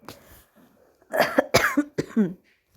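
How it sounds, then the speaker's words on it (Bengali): A woman coughs several times in quick succession at close range, with a fainter throat sound at the start, loud and dry with no other noise. "কাশিও চলে এলো।"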